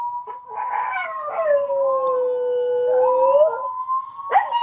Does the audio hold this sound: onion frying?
no